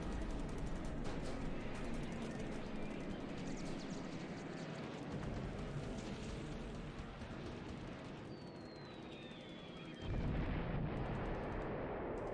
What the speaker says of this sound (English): That's a funny, epic sound for a 50 caliber machine gun